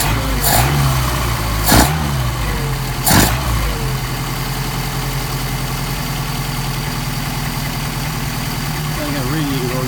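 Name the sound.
engine with Solex carburetor idling while warming up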